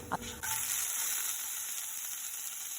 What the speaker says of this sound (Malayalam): ഏലക്ക ഗ്രാമ്പു ഒരു ചെറിയ കറുവാപ്പട്ട പിന്നെ ഒരല്പം പെരിഞ്ജീരകം ഇതൊന്ന് ചെറുതായിട്ടൊന്ന് റോസ്റ്റ് ചെയ്താൽ മതി